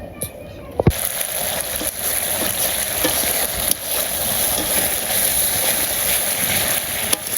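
Meat cooking in a pan with masala spices, a steady frying sizzle that runs throughout at moderate loudness, with a sharp clatter near the start and faint voices in the background.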